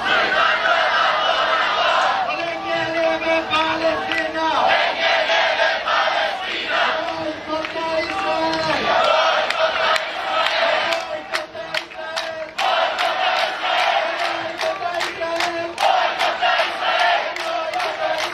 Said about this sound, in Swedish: En stor applåd för Charlie Andreasson från Gazaremsan.